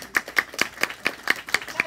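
Several people clap together in a steady rhythm, about eight sharp claps in under two seconds, close by in a music workshop room, with no talk over it.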